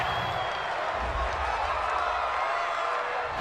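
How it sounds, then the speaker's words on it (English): A football stadium crowd roars in steady, dense disapproval after a roughing-the-passer penalty, a continuous wash of many voices with no break. "this crowd does not like that call"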